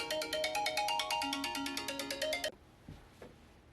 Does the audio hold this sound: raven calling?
no